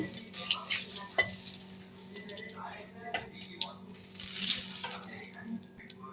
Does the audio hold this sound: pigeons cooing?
no